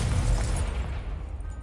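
An Expelliarmus spell is cast in Hogwarts Legacy during a duel: a loud, dense burst of magical whooshing energy that fades gradually over under two seconds.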